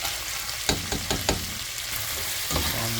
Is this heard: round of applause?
no